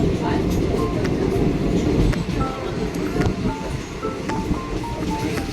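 Steady, loud rumble of a moving long-distance train from inside the carriage, travelling from Shalimar toward Goa, with rattling and clattering throughout and faint voices in the background.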